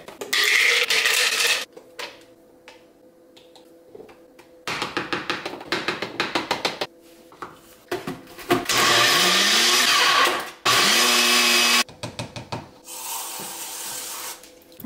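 Blender whirring through a chocolate peanut butter banana smoothie in loud bursts of a few seconds each, pitch shifting as the mix thickens, with clattering kitchen taps and handling noises between runs.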